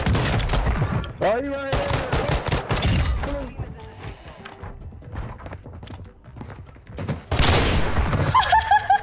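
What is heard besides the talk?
sniper gunfire in a video game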